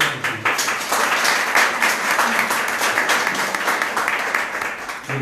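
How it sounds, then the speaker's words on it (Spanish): A church congregation applauds in sustained, loud, dense clapping that fills the room for several seconds, with a few voices faintly audible beneath it. "Un aplauso a Jesús."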